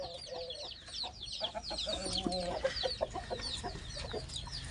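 Roosters in a Turkish backyard flock cluck and murmur in short, repeated bursts at moderate distance, mixed with small bird chirps over a steady low outdoor hum.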